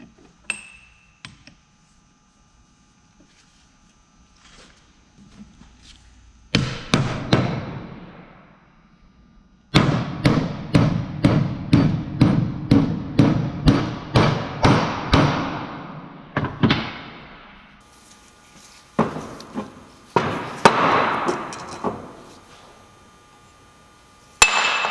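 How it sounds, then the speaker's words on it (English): Hammer striking a socket to drive a bearing onto a Dana 44 differential carrier during a Salisbury diff rebuild, a long run of sharp metallic blows in quick rhythm with pauses between bursts, loud and close, no talking. "You can either heat it up to expand it and push it on, or what I like to do is grab a socket."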